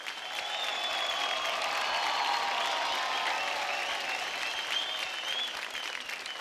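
Steady, full applause from the audience of a televised Indian dance competition stage show, many hands clapping evenly and continuously at moderate distance with a faint crowd murmur underneath.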